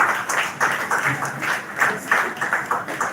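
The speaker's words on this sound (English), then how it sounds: "Please put your hands together." A live event crowd applauding, a dense patter of many hands clapping in uneven pulses for a few seconds, fairly loud and close, with some voices mixed underneath.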